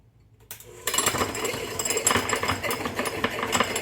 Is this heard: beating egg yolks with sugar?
yes